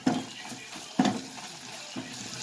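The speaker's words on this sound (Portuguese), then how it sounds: "Vai mexer, aí a margarina vai derreter. E continua fritando" Margarine melts and fries in a pan with calabresa sausage as it is stirred, giving a soft sizzle with three scraping stirs roughly a second apart.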